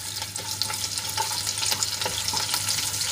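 Cumin, sesame seeds, chili flakes and chopped green chili sautéing in hot oil, a continuous crackling sizzle with scattered pops and stirring, heard close and steady.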